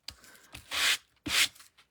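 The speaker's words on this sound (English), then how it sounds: "sanding the back side of something that's embossed with a 3D embossing folder can be different." Two short bursts of gritty rubbing from sanding the back of embossed two-tone card stock, each under a second, with lighter scuffs and handling noises around them.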